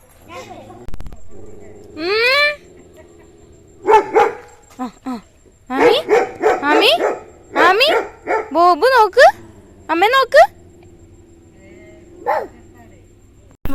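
Repeated high-pitched yips and barks from young dogs, coming in irregular bursts with short pauses, fairly close, with a low background hum.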